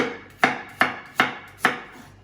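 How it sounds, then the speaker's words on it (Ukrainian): A knife chops radishes on a cutting board in a kitchen: four crisp, evenly spaced chops, each a sharp close knock with a short tail, with no talking. "Так що наріжу редисочки побільше."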